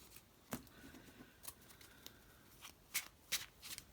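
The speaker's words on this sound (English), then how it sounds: "I'll shuffle, make sure it is proper random" Yu-Gi-Oh playing cards being shuffled close up, several crisp riffles and snaps in an irregular rhythm with quiet pauses between.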